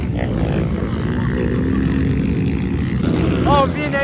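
A 250F four-stroke dirt bike engine runs loud and steady nearby, with a continuous mechanical drone and a brief rising rev near the end, and some background chatter underneath.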